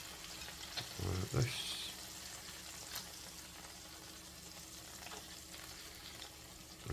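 Fat sizzling and spitting in a pan while lamb heart and beef kebabs cook, a steady faint crackle with a brief louder burst early on, under a short stretch of talk.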